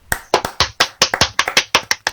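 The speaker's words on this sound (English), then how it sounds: "Colin clapping very heavily there." Colin clapping heavily, a close, loud run of about fifteen sharp hand claps in an uneven, fast rhythm, with no talk over them.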